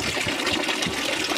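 Water gushing steadily from a newly installed supply at a country house, a loud continuous rushing flow heard close up with no voices.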